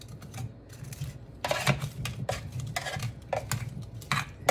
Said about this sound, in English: I'm gonna flip these vegetables around a little bit.